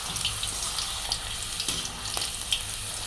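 Punjabi samosas frying lightly in oil give a steady bubbling sizzle with small crackles and pops scattered throughout, fairly close and moderately quiet.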